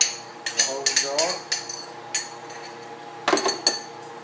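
A utensil stirs chili sauce in a pot, making scattered metallic clinks and scrapes in short irregular bursts against the pot, close by.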